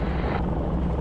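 A 1944 SNJ-5 radial-engine airplane running steadily during pre-takeoff checks, a loud continuous low drone with a brief rise in upper roar early on, close and alone without talk.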